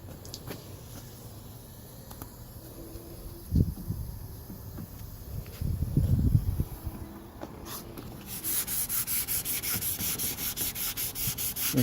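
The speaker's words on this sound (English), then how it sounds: "now I'm going to go ahead and get some wet dry sandpaper and sand it" A Cadillac CTS from 2003 has its painted driver's quarter panel wet sanded by hand with wet/dry sandpaper, giving soft rubbing strokes that become a steady rhythmic back-and-forth scrubbing close by, with no talking.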